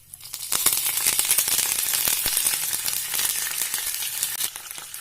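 Curry leaves dropped into hot oil with cumin seeds, loud and close: a dense, steady sizzle packed with quick crackling pops for several seconds.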